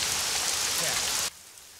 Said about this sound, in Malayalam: ഓ, മഴയും പെയ്യാൻ തുടങ്ങി.